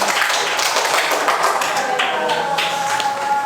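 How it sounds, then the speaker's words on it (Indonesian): Classroom clapping for a student during a teaching practice lesson: a short burst of many hands clapping with uneven rhythm, close and fairly loud, filling the whole moment. "Tepuk tangan untuk Jesslyn."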